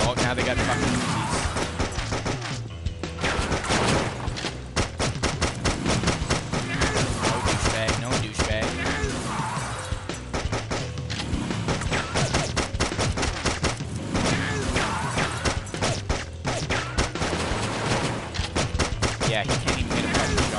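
Dense, continuous gunfire from the Delivery Man flash video game, a loud rapid barrage of shots running throughout the whole stretch over a busy backdrop, with no pause.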